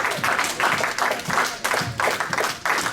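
Worship congregation applauding and cheering in rhythmic bursts, clapping swelling and dipping roughly every half second, loud and close throughout with voices mixed into the noise.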